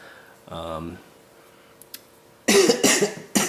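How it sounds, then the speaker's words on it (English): A few harsh, close coughs in quick succession near the end, after a brief spoken sound and quiet clicks. "Sorry for my coughing, I just cannot stop coughing today."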